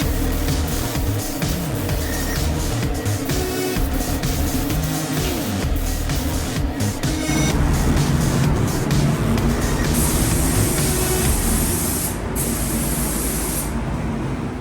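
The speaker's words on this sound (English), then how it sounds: "So this is the clear coat and the paint and everything that I've been using." Spray gun laying Glamour Clear clear coat over a pearl black Mazda Miata, a steady close airy hiss running without pause, joined by a brighter high hiss in the last few seconds.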